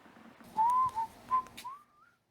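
Person whistling a short melody, a few clear sustained and gliding notes, close and fairly soft against a quiet background.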